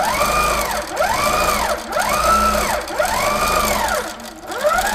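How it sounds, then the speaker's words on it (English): A Simply Sixteen quilting machine stitches circles, its motor whirring loudly and close, rising and falling in a smooth repeating cycle about once a second. "Now we're ready to do some stitches. So let's do some circles, pointy things,"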